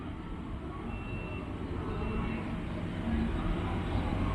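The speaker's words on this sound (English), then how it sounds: "And just how incredibly close that tram gets for the studio tour" The studio tour tram at Universal Studios Hollywood rumbles past close by, a low continuous rolling drone with faint mechanical whines, steady and swelling slightly as it nears.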